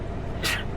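A single short sneeze in a sawdust-filled setting, a brief sharp burst that stands out from quiet background noise, with no talk over it.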